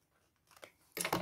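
Scissors snip a small corner off scrapbook paper: quiet paper handling, then a couple of crisp, close cutting crunches that grow louder toward the end, with no voice.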